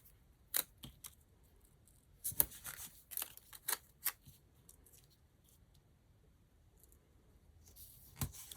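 Scissors snip through printable planner stickers in short separate cuts, a few quick clusters with pauses between, close and quiet with no talking.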